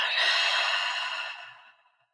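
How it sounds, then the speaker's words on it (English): A long, slow exhale during a guided deep-breathing exercise, a soft airy breath close to the microphone that fades gradually into silence. "We're going to breathe that in and out."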